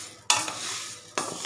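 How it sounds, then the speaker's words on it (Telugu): Cardamom pods dry roasting in a hot pan for a sweet recipe, stirred in two bursts of scraping and rustling over a steady soft sizzle, close and fairly quiet. "యాలకులు కూడా వేయించేటప్పుడే లాస్ట్లో కొంచెం ఒక 1/2 మినిట్ వేయించుకొని వేడి మీద"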